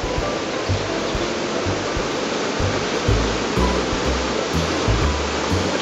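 Clear creek water at Fossil Creek near Camp Verde, Arizona, rushing steadily in a loud, continuous wash, close and unbroken throughout with no voices.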